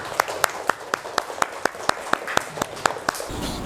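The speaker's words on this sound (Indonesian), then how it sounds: "Kasih tepuk tangan untuk Ananda Fawaid." Hands clap in a classroom in a slow, steady rhythm, about fifteen sharp, evenly spaced claps, close and distinct against a quiet room.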